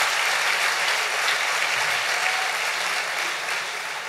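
A church congregation breaks into steady applause for several seconds, a dense wash of clapping that carries on evenly and fades slightly toward the end.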